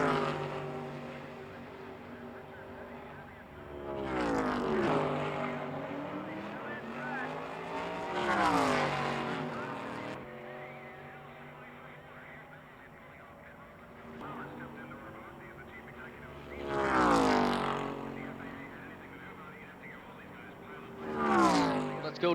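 Stock car race cars roar past on a speedway during a 1985 Winston Cup Grand National race, engines rising and falling in repeated loud pass-bys with Doppler sweeps, a steady drone of distant cars between them.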